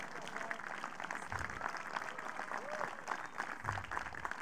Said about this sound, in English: They're clapping for him.